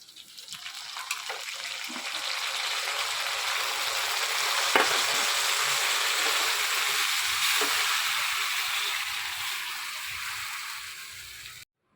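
Boiled vegetables are added a little at a time to a hot pan for shukto and fry with a broad, steady hiss that swells and then slowly fades, with a few soft knocks, close up and without talk.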